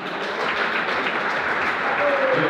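Loud, dense applause fills a hall at a sports gala ball in Nowa Dęba, an unbroken roar of many hands clapping throughout.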